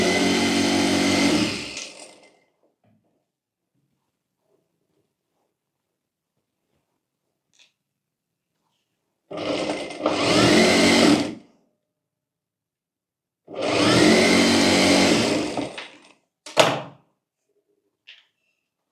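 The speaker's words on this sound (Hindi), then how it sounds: "इसलिए यहाँ पर पहले सिलाई कर लेंगे" A sewing machine runs in three bursts while stitching a lined belt blouse: a long run, then two shorter runs, followed by a brief clack and silence in between.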